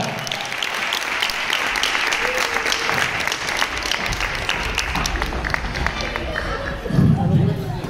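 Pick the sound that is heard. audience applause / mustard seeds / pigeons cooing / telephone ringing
audience applause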